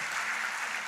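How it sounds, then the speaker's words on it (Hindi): An audience clapping for themselves at a talk, a brief, even wash of applause at moderate distance, continuous and fairly soft with no distinct voices. "आप अपने लिए क्लैपिंग करिए, तालियां बजाइए कि आप स्वस्थ हैं"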